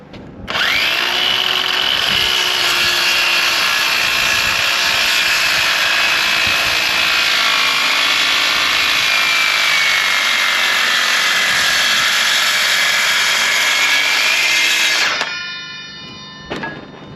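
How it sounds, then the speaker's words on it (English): A power saw cuts through wood during the restoration of a historic small cruise ship, a loud, steady high whine that runs unbroken for about fifteen seconds before stopping abruptly and winding down. "That thing's not a big enough saw to go all the way through."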